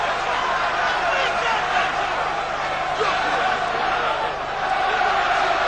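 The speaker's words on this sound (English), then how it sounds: "Crowd getting behind Benn." A dense boxing arena crowd roars steadily for Nigel Benn during his fight with Chris Eubank, a loud, continuous wall of cheering with a commentator's voice mixed in.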